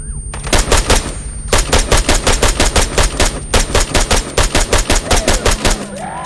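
Rapid automatic gunfire from the video game Arma 3 aimed at a vehicle's tires: loud, close bursts of fast shots separated by short pauses, with nobody speaking over them.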